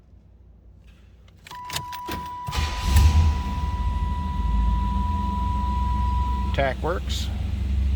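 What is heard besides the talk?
1987 Chevrolet Monte Carlo SS engine starting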